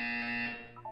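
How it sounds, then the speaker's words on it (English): A loud electronic buzzer from the Portal 2 video game holds a steady, harmonically rich tone for nearly a second, then tails off with a brief higher blip at the end. "You will hear a buzzer."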